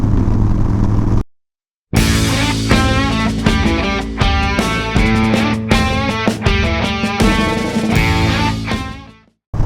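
A Harley-Davidson Dyna fitted with a Rifle Roadster fairing is riding, its engine note rising and falling loud and close with wind rush, after a brief cut near the start and a fade at the end.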